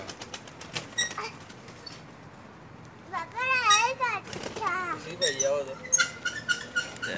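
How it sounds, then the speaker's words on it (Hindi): Pigeons released from a rooftop loft burst into flight with several flurries of flapping wings, mixed with nearby voices and children's chatter that rise in the second half. "और छोड़ो कबूतर"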